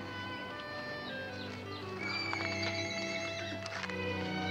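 Horses and young foals whinny and neigh repeatedly, several overlapping calls at close to middle distance over a steady background, with hoof clip-clop at times and no talking.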